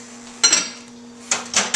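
A lid is set onto a dish of raw broccoli florets being readied for the microwave, giving a pair of short close clinks, then a pause, then a few more light knocks as it settles.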